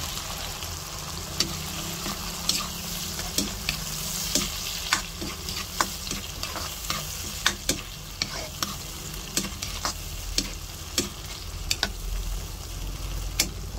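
Shrimp fry with cooked tomatoes in a pan, a continuous close sizzle punctuated by regular clicks and scrapes of a stirring utensil, with no talking.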